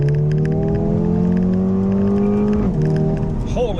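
A 2020 Mercedes-AMG A35 with an inline four-cylinder engine revs steadily and loudly from close by, then gives a sharp throttle blip that rises in pitch near the end.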